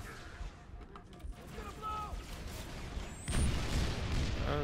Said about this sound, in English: Oh god, grenades.